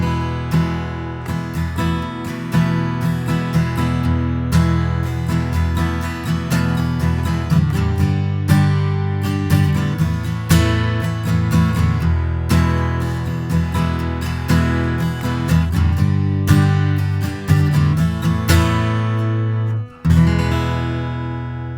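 Guitar recorded through a Seruniaudio SEM-02 microphone into an Apollo Twin preamp with 48 volt phantom power, played as a continuous run of strummed and picked notes, close and full, with no talking.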